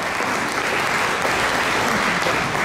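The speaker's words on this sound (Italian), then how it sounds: "Grande applauso" Loud, dense clapping from an audience at an underwater photography award evening, steady and unbroken throughout the short stretch.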